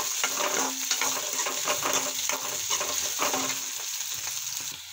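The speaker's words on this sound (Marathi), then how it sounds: "थोडेसे दाणे भाजू देऊ ना, छान फ्राय होतपर्यंत भाजून घेऊ याला" Peanuts roast in a hot pan for an eggplant bharta, a continuous bright sizzle broken by rhythmic scraping stirs, close and steady throughout.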